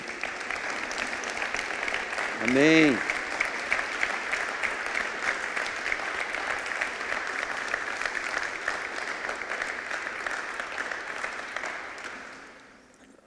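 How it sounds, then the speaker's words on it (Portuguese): Steady, sustained applause from a large crowd fills the room, with one voice briefly calling out before the clapping slowly fades at the end. "Uma salva de palmas para Jesus."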